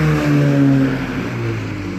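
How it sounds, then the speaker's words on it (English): A car passes on a nearby road outside a Popeyes restaurant, a steady engine drone and tire rumble lasting the whole two seconds, fairly loud. "I'm sorry if you guys hear cars coming"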